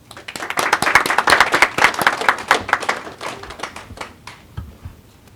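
An audience welcomes a speaker to a talk with a burst of clapping that swells quickly, holds dense and close for a few seconds, then thins to scattered claps and dies away.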